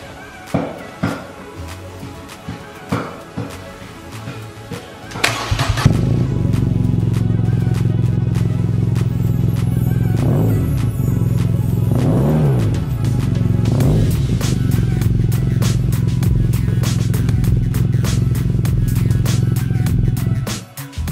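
BMW R nineT motorcycle with its DB killer removed, a few sharp blips at first, then a loud, steady deep exhaust idle close by with three rising rev swells.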